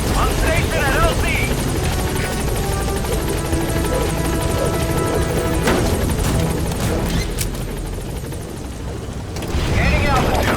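A B-Quad helicopter in the Metal Gear Solid V video game arriving at a landing zone, its rotor thumping loud and steady throughout with a brief crash-like burst midway, and a radio voice speaking over it.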